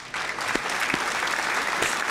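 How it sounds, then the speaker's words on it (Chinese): Sustained applause from a small crowd, steady clapping throughout with a few sharper claps standing out, fairly close and continuous. "你要加油，掌声鼓励一下"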